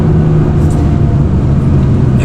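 McLaren MP4-12C supercar driving, a steady loud engine drone with low rumble running continuously without pauses or talk.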